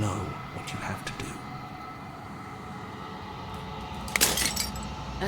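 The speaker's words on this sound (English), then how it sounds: "As the final fragment of glass shatters, you see yourself with newfound clarity." Glass shatters in Slay the Princess: a few scattered tinkling fragments early on, then a sharp, loud crash of breaking glass near the end over a quiet low drone.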